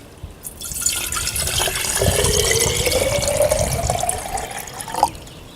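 Steam-distilled water pours steadily into a vessel, a continuous close splashing stream with a rising pitch as it fills, ending with a brief clink.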